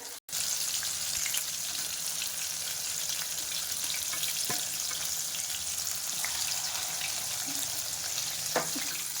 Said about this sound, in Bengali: হ্যাঁ কুসুমটা আদিত্যকে ভেজে দিচ্ছি।